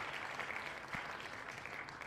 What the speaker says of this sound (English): I'll give you a big round of applause.